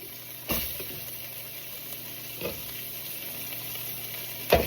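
Onions frying in hot oil in a pot for pot roast give a steady, moderate sizzle throughout, with a few sharp clatters as they are dropped in and moved around.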